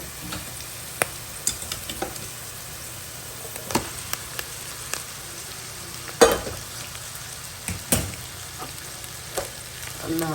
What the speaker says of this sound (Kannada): ಇವಾಗ ಇದಕ್ಕೆ ಅನ್ನನ ಮಿಕ್ಸ್ ಮಾಡ್ಕೊಳ್ಳೋಣ